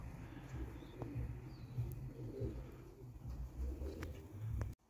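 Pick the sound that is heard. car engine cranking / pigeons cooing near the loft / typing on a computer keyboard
pigeons cooing near the loft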